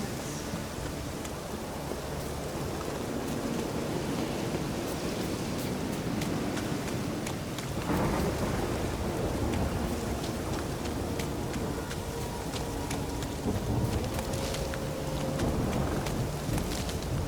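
Steady rain hisses through a Witcher 3 game scene as an unbroken wash of noise, with no distinct thunder.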